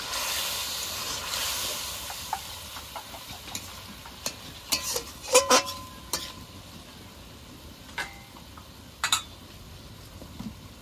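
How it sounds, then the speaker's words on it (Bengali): Taro stolons simmering in a spiced liquid are stirred in a pan, giving a soft steady sizzle with scattered scrapes and clinks of the spoon, close by and fairly quiet, with no talking. "এবার একটু নেড়ে চেড়ে জলের সঙ্গে লতিটাকে মিশিয়ে নেব"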